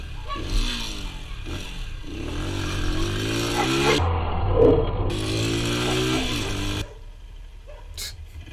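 150cc motorcycle riding along, the small engine droning and revving in steady waves with wind rush, close and fairly loud before cutting off near the end.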